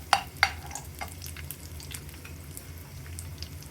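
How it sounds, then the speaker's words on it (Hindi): Dhaniya churma roasts in a pan over a medium gas flame with a soft continuous sizzle, opening with two sharp utensil clicks followed by lighter scattered taps and scrapes. "इस तरह से थोड़ी मीडियम गैस पे ही इसे अच्छे से भून लेना है हमें"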